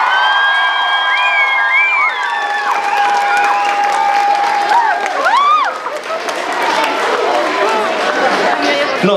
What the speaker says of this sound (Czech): ještě jednou potlesk pro něj